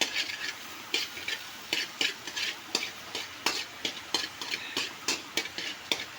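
Garlic, chili and onion frying in hot oil, stirred briskly: a sizzling hiss cut by regular spatula strokes scraping the pan about twice a second, close and clear with no talk.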